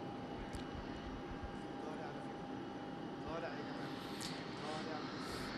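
An airplane's engines drone steadily as Pope Francis arrives in Egypt for a welcome ceremony, a constant airy hum with a faint high whine, beneath a voice speaking throughout.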